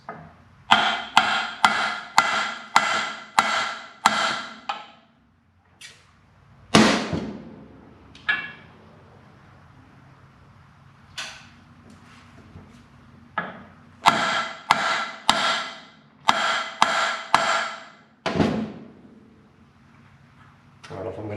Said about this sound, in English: I'm going to give it a few taps to get this lock ring in place